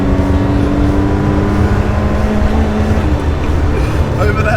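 Toyota 4A-GE engine with a 4-1 header in a KE70, heard as a loud, steady engine drone with harmonic buzz throughout, close up from inside the car.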